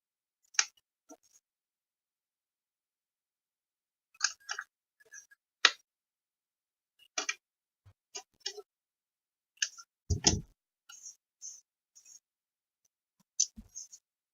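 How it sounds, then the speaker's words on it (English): Paper tags are cut out with scissors in a quiet room, giving sparse, faint snips and small clicks in irregular bursts with pauses between them. "I'm just going to go ahead and cut some of these out"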